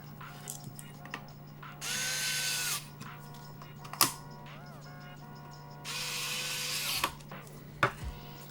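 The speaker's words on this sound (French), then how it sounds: "On va mettre les deux vis en dessous." Power screwdriver driving two screws into the underside of a Sega Master System during a repair, two separate whirring bursts of about a second each with small clicks and handling noises between them, close and quiet, against a low steady hum.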